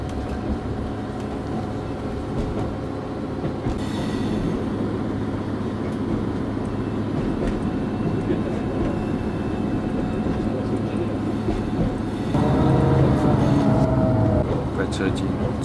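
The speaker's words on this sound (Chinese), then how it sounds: "在车进车站。 很小的车站，也是很破旧，几乎没有人，上车的。" A train pulls into a small, run-down rural station near Avallon, France, with a steady low rumble of wheels and carriage noise throughout and a brief brighter squeal of brakes near the end.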